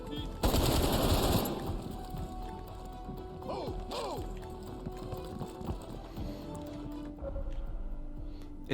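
Rapid AK-47 bursts in the shooter game Black Ops Cold War: a loud, dense volley of automatic fire up front, followed by quieter shots and clatter mixed with in-game voices and ambience.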